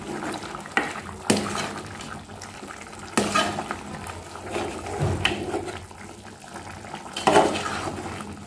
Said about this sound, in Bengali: এখন আমি এটিকে নেড়েচেড়ে মিক্স করে নেব।